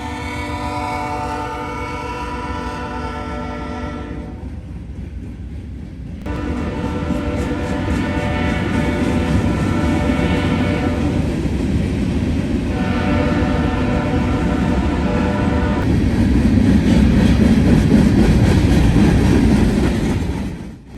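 A long freight train of manifest cars and auto racks rolls past close by, its horn sounding in sustained blasts before the loud, steady roar and clatter of passing cars takes over.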